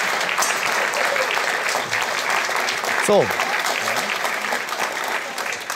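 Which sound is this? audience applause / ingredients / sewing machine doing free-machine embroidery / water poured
audience applause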